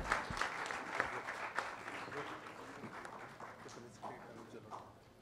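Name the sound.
audience applause welcoming singer on stage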